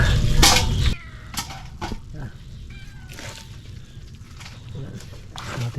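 A cat meows several times near a plate of prawns and fish at feeding time, with clinking dishes, rustling and a person talking in the background throughout.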